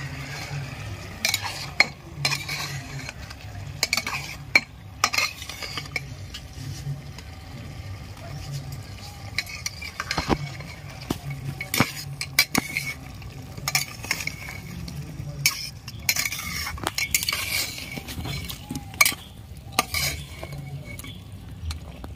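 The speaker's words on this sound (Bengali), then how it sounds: "ঢাকাটা খুলে আমি একটু নেড়ে নিচ্ছি।" Mutton stirred in a pot after the lid comes off, loud irregular metal scrapes, clanks and knocks of a ladle against the vessel over a low sizzle, close up with no talk.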